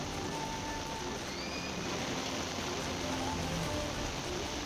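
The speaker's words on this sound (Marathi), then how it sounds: "मुसळधार पावसाचा फटका हा नागपूरला बसल्याचं पाहायला मिळत आहे।" Steady, dense rain hiss fills the whole stretch without pause, a heavy downpour in Nagpur drumming on surfaces with a low rumble underneath.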